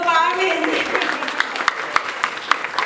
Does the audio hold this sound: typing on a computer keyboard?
no